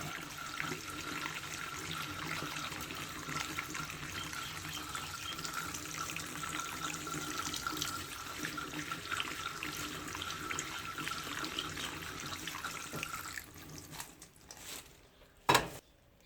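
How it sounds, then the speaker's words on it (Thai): Aloe vera flesh is rinsed under a running kitchen tap, a steady close stream of water splashing into a sink for about fourteen seconds before it shuts off, followed by a short clatter and quiet. "เราล้าง ว่านหางจระเข้มาได้แล้วนะคะ ก็เราก็ล้างเมือกออกหมดแล้วค่ะ"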